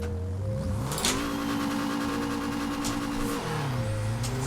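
A Peugeot 205 T16 engine in Forza Horizon 4 climbs in revs, holds a steady high buzzing drone, then drops back. It sounds close and fairly loud, with no talking.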